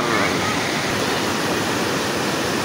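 Curug Tonjong waterfall pouring with clear water, a loud, steady, close roar of rushing water filling the whole clip without a break.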